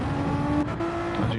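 A GT1 race car engine drones steadily at high revs in the Gran Turismo video game on the Dragon Trail Seaside circuit, loud and continuous with a sustained tonal whine and no talk over it.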